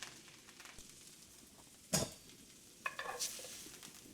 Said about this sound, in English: I'm going in with my broccolini, and then I'm gonna put a little bit of a weight on there just to get a nice hard sear on it.